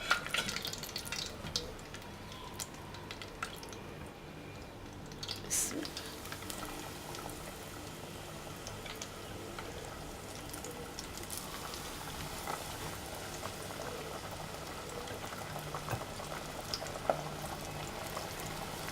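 Chicken pieces fry in hot oil for KFC-style crispy fried chicken, giving a continuous close bubbling sizzle with occasional louder pops and crackles.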